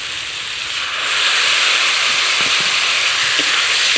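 Taro and ginger fry in hot oil for a fish curry with silver carp, giving a steady, loud hissing sizzle that swells after the first second and keeps going with faint clinks underneath.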